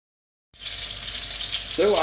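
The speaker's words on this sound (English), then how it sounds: "So you're going to sear it until it's brown on all sides" Beef for boeuf bourguignon hits a hot pot and sizzles loudly, starting abruptly after a moment of silence and holding a steady, close frying hiss, with a faint voice briefly surfacing near the end.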